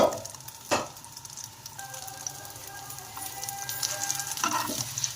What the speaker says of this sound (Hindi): ऑयल हमारा गर्म है तो हमने पहले थोड़े से फ्राई कर लिए हैं।